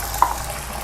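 An egg hits a hot, oiled nonstick pan for fried rice and gives off a brief, close, steady sizzle with a soft hiss that stays level throughout.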